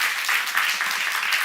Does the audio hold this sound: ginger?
no